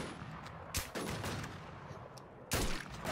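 Gunfire in the online survival shooter WarZ, two or three sharp bursts of shots separated by quieter stretches of game ambience, fairly loud and close, with no talking over them.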